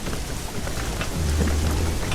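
Heavy rain pours at night with a low thunder rumble swelling underneath, a loud, dense, continuous wash of drops on a rural road to a cremation-ground village, set in a horror story.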